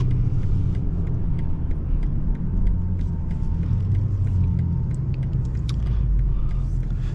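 BMW M340 exhaust rumbling steadily from inside the moving car, a continuous loud low drone with no distinct breaks, any downshift blips blending into the constant engine note.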